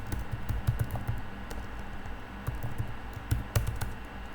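A computer keyboard clatters with irregular, close key taps, some bursts louder and quicker than others, over a low room hum with no voice.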